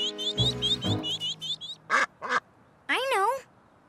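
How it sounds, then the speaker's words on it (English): Cartoon ducklings trapped in a dried-up pond: several short high quacks and chirps in quick succession, then a longer warbling call, mixed with voices in an animated show. "She says her ducklings are trapped."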